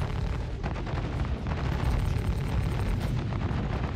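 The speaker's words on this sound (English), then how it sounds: "Oh, getting smacked by the ballistic fire." Heavy ballistic fire slamming into a ship in the Star Citizen space game, a dense, loud, continuous rumble of rapid impacts and booms with no pauses.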